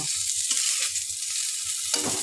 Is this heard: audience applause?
no